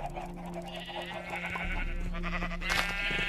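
Minecraft farm animals — cows and buffalo — calling with bleating, lowing cries heard from a distance, layered over steady in-game ambient background noise.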